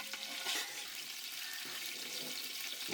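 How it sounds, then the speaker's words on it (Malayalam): Three litres of water poured into a hot pot of oil and whole spices for mutton biryani, a steady close splashing rush and hiss that continues throughout with no talk. "ഇനി ഇതിലേക്ക് 3 ലിറ്റർ വെള്ളം ഒഴിച്ചു കൊടുക്കുക"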